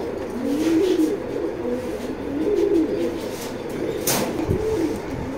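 Male racer pigeon cooing close by in repeated soft, throaty phrases, a low rolling call pulsing in bursts roughly every second, with a brief rustle near the end.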